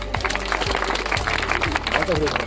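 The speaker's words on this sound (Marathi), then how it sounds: "टाळ्या वाजवा त्याला." A group of schoolchildren claps together at a science day event, producing a steady, dense patter of applause that runs throughout, with voices talking over it.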